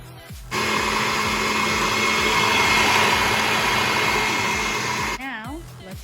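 A kitchen blender on its liquefy setting whirs loudly and steadily through water and ingredients for several seconds, then winds down with a falling tone as it stops.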